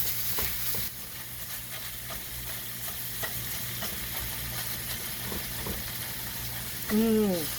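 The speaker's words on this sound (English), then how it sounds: "I'm just breaking it up with my spatula here" A spatula breaks up meat frying in a pan, making a steady sizzle punctuated by repeated scraping and tapping strokes. A brief voice-like sound rises near the end.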